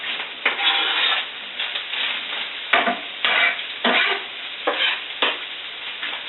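Ground turkey and onion being stirred and fried in a pan, close sizzling broken by repeated scraping strokes of a utensil across the bottom.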